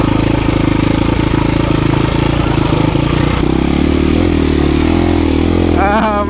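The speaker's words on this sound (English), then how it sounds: "Oh, my bike's just spinning." A dirt bike engine revs hard and continuously while its rear wheel spins in the dirt, loud and close throughout, with the pitch shifting partway through.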